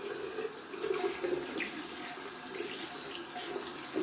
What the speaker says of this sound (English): Gonna rinse off the brush, see how much lather that's left over in the knot.